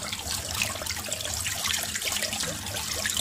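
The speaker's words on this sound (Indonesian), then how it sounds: "Jadi kita kuras dulu airnya." Water drains steadily out of a leaking washing machine through its outlet hose, a continuous rushing trickle at close range that holds the same level throughout, with no voices.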